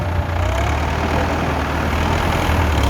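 A Ford 6600 single-axle farm tractor engine revs with a steady, loud low rumble that holds constant throughout, no voices over it.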